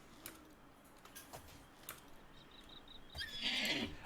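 A horse in the video game Oblivion whinnies near the end, a shrill rising neigh after a few soft clicks and thuds, set against a quiet background.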